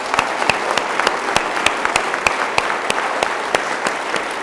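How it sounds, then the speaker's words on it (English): An audience applauds the Williams at a 2002 State of the City Address in Cupertino, producing steady, fairly loud clapping from a modest crowd with distinct individual claps audible throughout. "Can I have a round of applause for the Williams?"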